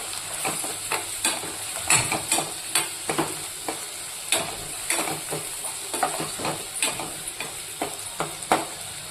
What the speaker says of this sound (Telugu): పసుపు, ఈ అల్లంలోని పచ్చివాసన పోయేంత వరకు ఇలా వేయించుకోవాలి